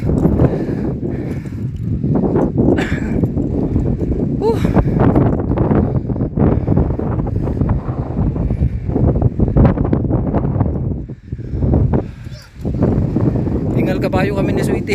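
Cold wind gusts hard across the summit of Mount Bulacan's Mount Manalmon... no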